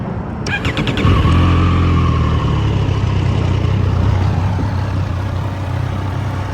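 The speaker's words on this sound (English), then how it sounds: "Okay, so now the bike is started" A 2025 Triumph Street Triple 765 R motorcycle fires up with a brief starter whir, then settles into a loud, steady, close-up idle with a low throbbing rumble.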